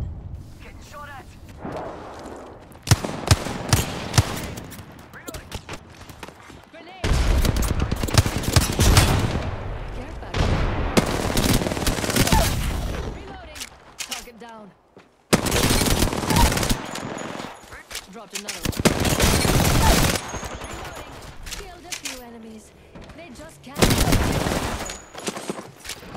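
Gunfire in the video game Apex Legends, loud bursts of rapid automatic shots in long stretches separated by short lulls, with players talking between and over the firing.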